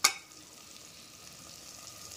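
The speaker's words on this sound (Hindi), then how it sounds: "अब मैं डाल दूँ इसमें चावल, मैंने इसमें डाल दिए चावल और चावल भी थोड़े से फ्राई होंगे" Rice fries in a pressure cooker pan, opening with a sharp hiss as it drops into hot oil, then settling into a faint, steady sizzle that continues alone.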